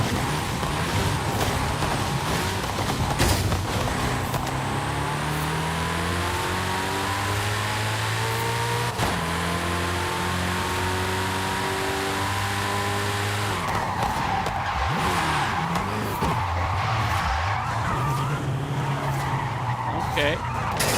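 A Koenigsegg Jesko driven in Forza Horizon 5 with a steering wheel, its engine revving loudly through rising and falling gears with skidding tire squeal, continuous and close, while someone talks over it.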